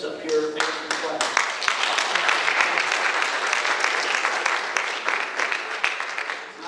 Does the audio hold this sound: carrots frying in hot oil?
no